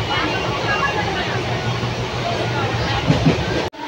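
A Nabadwip-bound train pulls away from a station with a steady loud rumble and faint rail clatter, continuous and close until an abrupt cut at the end.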